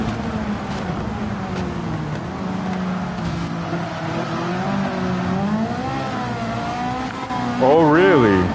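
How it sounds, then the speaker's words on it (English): Two Ferrari race cars are dicing closely at the Red Bull Ring, their engines droning steadily at a distance. The engine note rises toward the end under continuous commentary. "This is a nice little battle right here. Ferrari and Ferrari."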